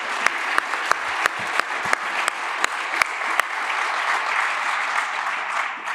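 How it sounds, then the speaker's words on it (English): Audience applause closing a panel conversation with George P. Bush, a dense steady patter of many hands with a few sharp close claps standing out, holding level for several seconds. "Let's give them a warm of applause here."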